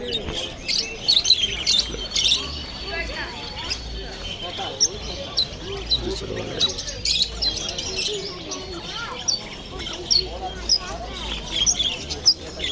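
Many small birds chirp and tweet continuously in a busy chorus at a bird market in Andijan, with scattered thumps and a voice or two in the background.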